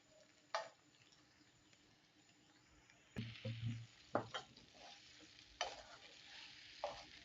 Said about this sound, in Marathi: भिजवलेल्या कुरडया याच्यात टाकल्यानंतर हे छान असं आपल्याला परतून घ्यायचंय व्यवस्थित